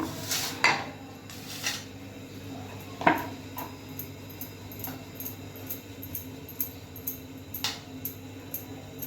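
An iron tava griddle set onto a gas stove for aloo paratha gives a few sharp metallic clanks and clinks, with one louder knock near the middle, over a steady low kitchen hum.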